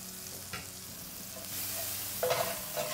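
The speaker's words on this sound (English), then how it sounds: "Put your oil in your pan, and we're going to saute a shallot." A shallot sautés in oil in a pan, a soft, steady sizzle with faint scrapes of stirring and a few light clicks.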